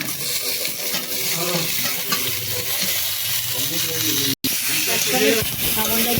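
Onion, ginger, garlic and tomato fry in a pan for chicken kosha, giving a steady close sizzle and hiss with stirring, while a person talks over it.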